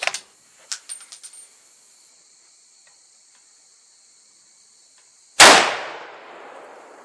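A quick run of sharp, dry clicks from a scope turret being turned on a 7mm-08 rifle, close and crisp, followed after a quiet pause by a sudden loud broadband burst that decays over a second or so.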